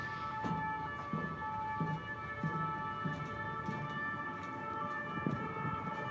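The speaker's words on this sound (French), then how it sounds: "C'est stylé avec les sirènes." Distant city sirens in Paris wail steadily in the background, a faint sustained tone over low rumbling ambience with occasional soft thumps.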